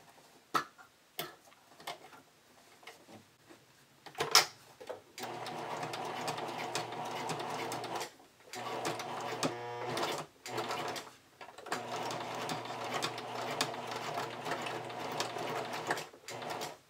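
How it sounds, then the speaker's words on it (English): A domestic sewing machine stitches through a thick area of bikini fabric and binding, running in labored bursts with rapid mechanical ticking, separated by brief pauses and a few clicks, close and fairly quiet. "Sewing machine is not happy about having to sew through such a thick area"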